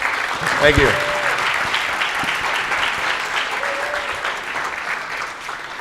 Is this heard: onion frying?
no